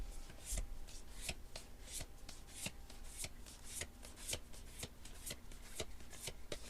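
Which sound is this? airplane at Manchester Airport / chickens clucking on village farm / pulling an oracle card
pulling an oracle card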